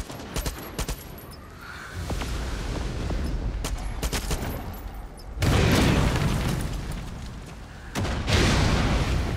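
In the Far Cry 6 video game, a proximity bomb explodes as part of gunfire and heavy booms. Scattered shots lead into two loud, broad blast bursts, the second following a few seconds after the first.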